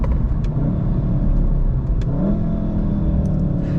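A 2014-2019 VW Golf 7 R engine in sport mode growls loudly and continuously from inside the cabin after a downshift, a deep rumbling rev that holds steady with slight rises in pitch.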